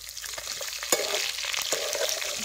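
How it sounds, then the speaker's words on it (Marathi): Chopped tomatoes fry in hot oil for spicy chicken, a continuous close sizzle and crackle with a few sharp scrapes of a utensil stirring the pan. "टमाटो बी तेलात तसे चांगली भाजून घ्यायचे."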